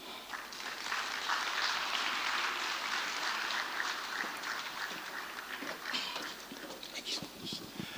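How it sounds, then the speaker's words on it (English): Applause from an audience at the Africa Social Impact Summit for a speaker from the African Development Bank, a steady crowd of clapping hands sustained across the stretch and tapering slightly toward the end. "Please keep the applause going for Mr. Ansah from the African Development Bank"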